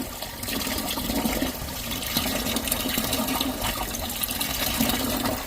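Water steadily fills grow bags in an Aircube active oxygen grow system on a timer, a continuous rushing, trickling flow heard alone at a constant level.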